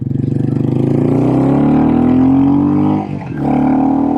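A Royal Enfield Classic 350 SRT with cam, FuelX, DNA filter and a full exhaust pipe revs loud and close, its pitch climbing steadily before a brief dip and then surging again.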